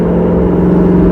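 A 2019 Mustang GT running a Borla S-Type exhaust in track mode gives a loud, continuous deep burble with a heavy steady drone and no voices over it.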